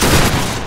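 A massed musket volley in Battlegrounds 3 during a multi-clan line battle, with one loud, dense blast that rolls and fades over a fraction of a second.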